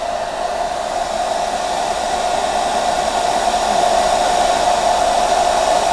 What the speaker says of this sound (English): Let's go ahead and turn on my dryer back on, hair dryer.